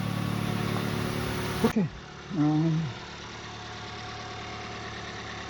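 A 2014 Mazda 3 with a 2-liter engine idles steadily after its fuel injectors were changed, a low, even hum running throughout, while someone speaks briefly over it near the start.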